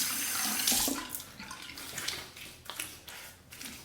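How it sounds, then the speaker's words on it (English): Tap water running into a sink while a razor (Parker 78R) is rinsed, a close splashing flow that swells and fades in uneven bursts, with no talk. "Another rinse of the face."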